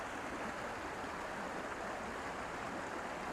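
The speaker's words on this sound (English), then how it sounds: "or a rushing stream." A rushing forest stream beside a bike trail at Potato Creek gives off a continuous, even roar of water, close and unbroken, with no one talking.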